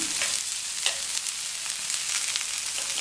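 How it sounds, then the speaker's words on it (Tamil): Chopped onions sizzle steadily in oil on a new iron dosa pan being seasoned, a close, even frying hiss with faint crackles and no voices. "நல்லா எல்லா பக்கமுமே இந்த எண்ணெயும் வெங்காயமும் பரவுற மாதிரி வச்சு இதை வதக்கிட்டே இருக்கலாம்"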